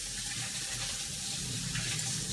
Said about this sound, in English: So let me wash my hands really quick.